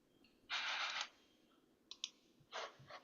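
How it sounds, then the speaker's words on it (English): A cat walking across a computer keyboard, producing a soft burst of rapid key clatter followed by a few scattered clicks and another short flurry, faint and close. "that was a cat stepping on my keyboard"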